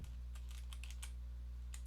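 Computer keyboard keys clatter in a quick, irregular burst of typing, close and fairly quiet over a low constant hum, with no voices.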